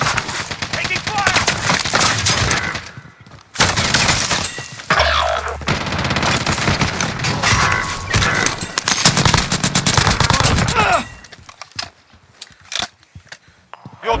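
Rapid bursts of nail gun fire in the Call of Duty Warzone video game, loud and sustained across most of the stretch with brief pauses, mixed with game effects and voice callouts before tapering to quieter sounds.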